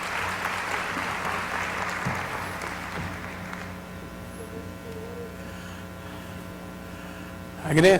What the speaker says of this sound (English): Let us give don Claudio Naranjo a very, very big welcoming hand.